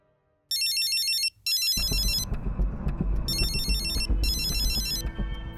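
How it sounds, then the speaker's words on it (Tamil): An electronic telephone ringtone in a Tamil TV serial scene sounds in two bursts separated by a short gap, loud and close, over a busy music-like background with no talking. "ஃபோன் அடிக்குது"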